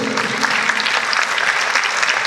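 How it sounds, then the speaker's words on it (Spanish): Church congregation applauding during a Spanish-language sermon on the cross, steady dense clapping throughout at even loudness with no talk. "démosle un aplauso a la cruz de Cristo"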